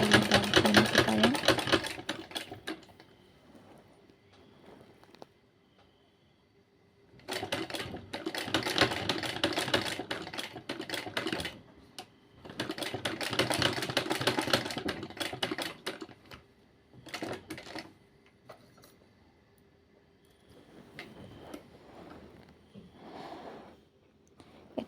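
Sewing machine stitching the neckline of a kameez, running in three long bursts of rapid mechanical clatter separated by quiet pauses, heard close and clear.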